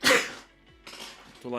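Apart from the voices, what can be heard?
sneeze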